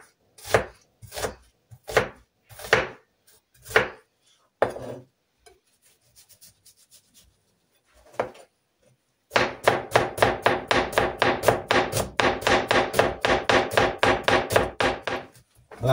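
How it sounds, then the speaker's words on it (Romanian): Knife chopping onion into small cubes on a board for a lentil stew: a few slow separate chops, a pause, then a fast steady run of crisp close cuts. "și ceapa o să o tăiem cu buleță mărunte"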